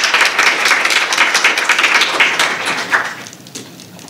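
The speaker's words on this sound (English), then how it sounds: "A round of applause for Casey, please." An audience at a public forum in Newcastle gives a round of applause, a loud, close burst of clapping that holds steady before tapering off into scattered claps.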